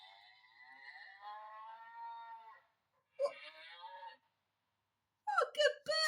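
Farm animal calls from a Noisy Farm sound book, a string of drawn-out moo-like and wailing animal voices played through a small speaker, separated by short silences, with a final burst of livelier calls.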